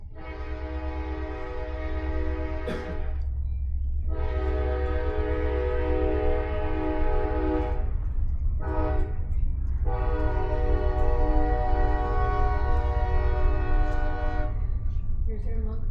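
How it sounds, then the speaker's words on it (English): Loud train horn in a small-city council chamber, sounding in long sustained harmonic blasts with short gaps, over the steady low rumble of rail cars passing close by. "Here's their monthly train, every meeting."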